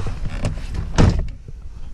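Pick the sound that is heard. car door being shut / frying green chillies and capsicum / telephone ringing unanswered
car door being shut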